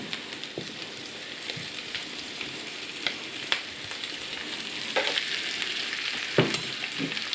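Corned beef frying in oil in a pan, a steady close sizzle with a few sharper pops and spits scattered through, loud and continuous with no voices.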